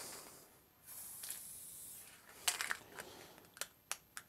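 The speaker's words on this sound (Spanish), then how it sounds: "Voy a rematar con el spray." Aerosol spray can hissing onto a paper print made by hand, one long soft burst near the start followed by a few short sharp spurts, close and fairly quiet with no talking.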